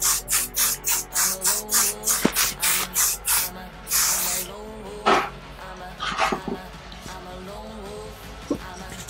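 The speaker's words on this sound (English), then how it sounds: "now I just go in with my texturizing spray and just do short little bursts" A can of texturizing hair spray hisses in a rapid series of short, regular bursts, followed by a few scattered longer sprays and faint background sounds.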